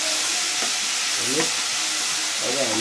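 Garlic paste sizzles hard in a pan of hot oil, a steady loud frying hiss with brief stirring scrapes, while a voice speaks briefly over it.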